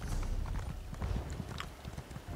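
Horse hooves clip-clopping in the video game Elder Scrolls Online, a steady run of close, clear hoofbeats alone with no talk over them.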